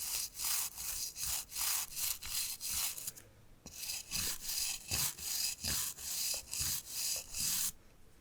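A toothbrush scrubs teeth in a dentist's brushing demonstration, giving close, bristly back-and-forth strokes in a regular rhythm of about two per second, with one brief pause partway through.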